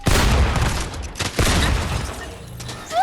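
Gunfire in Fortnite, loud close bursts of rapid shots with a second volley after a short pause and mechanical clatter as it trails off.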